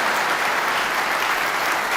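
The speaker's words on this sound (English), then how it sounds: "Yeah, that applause." An audience applauds at the 2018 World Snooker Championship final, producing loud, sustained clapping that stays even and unbroken with no voices over it.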